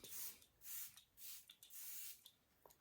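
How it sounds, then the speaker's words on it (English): Peach and Lily Glass Skin Veil Mist facial spray misted onto the face close up, four or five soft hissing bursts in a steady rhythm with brief pauses between them, then a faint tap. "I like to just go in with the final spray like this."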